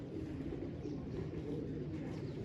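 A black-dyed pigeon coos in a low, continuous murmur, faint and steady with no other sounds standing out.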